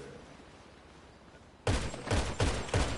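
Four loud, sharp sniper rifle shots ring out in a video game after a quiet stretch, spaced roughly half a second apart, each with a punchy low thump and bright crack.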